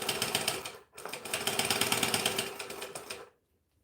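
Sewing machine stitching a Rascal, running in a fast steady whir of needle strokes that stops briefly, starts again for a longer run, then cuts off into silence.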